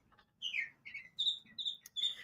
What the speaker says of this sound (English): I think the mockingbird's super into it